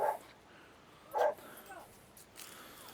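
Dogs on a camping trip let out a few short, fairly faint barks and whimpers at an outdoor campsite, spaced apart over a quiet, breezy background.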